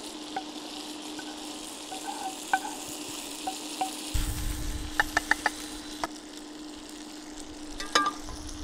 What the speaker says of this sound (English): Okay, let's mix it together then. Let's mix this.